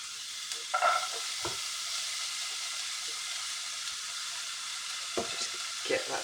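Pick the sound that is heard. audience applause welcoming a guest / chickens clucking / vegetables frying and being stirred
vegetables frying and being stirred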